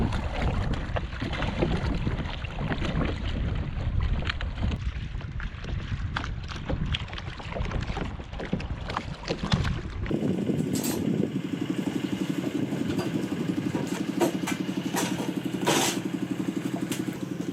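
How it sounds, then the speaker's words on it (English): Generator running on a small working barge in a Thai lagoon, a steady mechanical hum with wind and water noise at first, then a cleaner constant engine drone with intermittent sharp grinder-like bursts. "They've got a generator running and they're running a grinder, fixing something."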